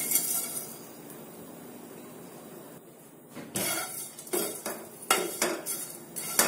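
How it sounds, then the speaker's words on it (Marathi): Whole cardamom, cinnamon sticks and cumin are dry-roasted in a pan over a low flame for misal. After a quiet stretch, a spoon scrapes and clinks against the metal pan in quick, irregular bursts, close and fairly loud, with no voices. "हे एवढे आपण मसाले भाजून घेऊया"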